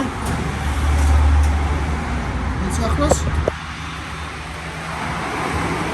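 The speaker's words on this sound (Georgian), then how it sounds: "ძლიერი ვენტილაციის ჩართვის ხმა." An electric car's ventilation fan runs strongly while the car charges, a steady broadband whooshing roar with a low hum, a few clicks and a brief voice over it.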